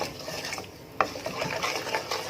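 A utensil stirs yellow spiced basmati rice in a pan with soft, close scraping and shuffling. One sharp clink stands out partway through, and no one speaks.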